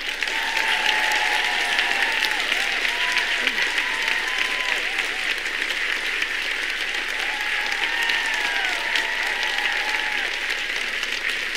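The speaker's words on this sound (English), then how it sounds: "Double applause." Audience at a special gathering breaks into sustained applause, a dense and even wash of clapping that lasts throughout. Faint tonal chirps ride over it.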